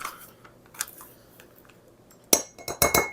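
Metal measuring spoons clink sharply while measuring cinnamon for a homemade spice mix, with a few faint taps early on and then a quick cluster of close, bright clinks at the end, no talking.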